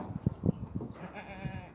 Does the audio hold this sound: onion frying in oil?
no